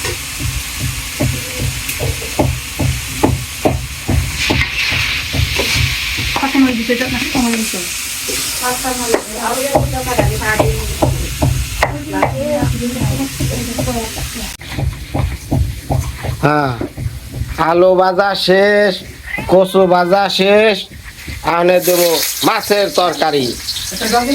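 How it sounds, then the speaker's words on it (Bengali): Potatoes and taro stirred while frying in a pan, a steady sizzle with a rhythmic scraping stir running through it, and voices talking over it for much of the time. "কচু আর আলু একসাথে চলছে"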